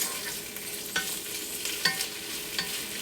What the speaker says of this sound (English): I'm just gonna stir it around a little bit every once in a while to help get some even browning